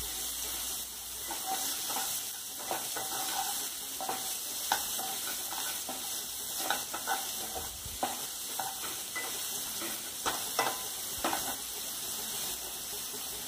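Chopped onions sizzle in a pan for Indian-style fried rice while a spatula stirs them in a close, steady hiss broken by irregular scraping and clicking strokes, with no voices.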